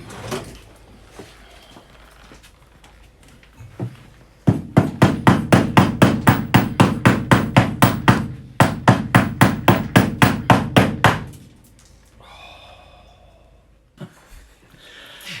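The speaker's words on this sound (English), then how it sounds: "When I was hitting that bolt through from the interior, it was a little bit tight" Steady hammer blows drive a tight bolt through from the interior while a 1950 MG fuel tank is being installed: two long runs of evenly spaced, sharp metallic strikes, close and loud, with quieter handling noises before and after.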